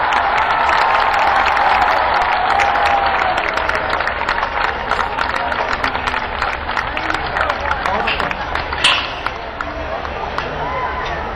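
A large crowd at a Dussehra Ravan Dahan celebration in Dwarka, Delhi claps vigorously to welcome the Prime Minister, loud and sustained, with crowd noise and voices mixed in before the clapping thins toward the end.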